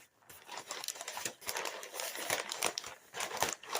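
Packing paper crumpled and crinkled by hand while unboxing an item, close and busy rustling in irregular bursts with short pauses between handfuls.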